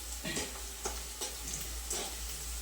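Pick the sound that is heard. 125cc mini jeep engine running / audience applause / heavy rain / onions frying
onions frying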